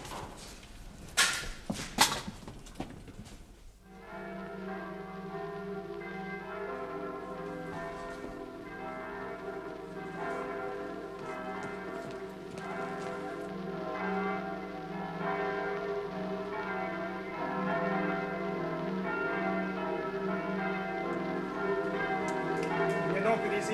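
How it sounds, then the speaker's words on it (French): Church bells ring across Warsaw, a few sharp strikes at first, then a sustained, layered peal with many overlapping tones that carries on steadily at moderate distance. "Ces cloches nous fatiguent."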